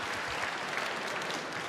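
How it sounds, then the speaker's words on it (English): A snooker crowd at the 2023 International Championship final in Tianjin applauds Zhang Anda with a steady, dense wash of clapping that stays at an even, fairly loud level throughout, with no clear voices. "the crowd here certainly getting excited for Zhang Anda"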